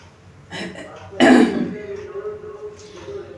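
A person with a fever and scratchy throat clears their throat and gives a short cough, close and fairly loud, followed by a quieter murmur.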